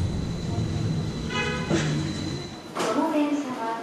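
Tokyo Metro Chiyoda Line train pulling into a station on the Kita-Ayase branch, a low rumble with brake squeals and a rising hiss, alongside a platform announcement.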